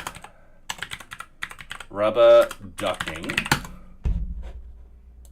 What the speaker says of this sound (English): Let me press those keys again.